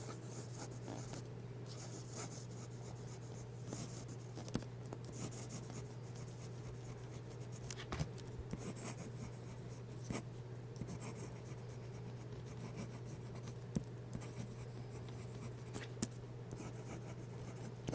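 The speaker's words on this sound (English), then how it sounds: "let's do a quick writing test" A fountain pen with Diamine ink scratches and glides across Rhodia lined paper, soft close rubbing strokes with small ticks as letters form, quiet and steady with no talking.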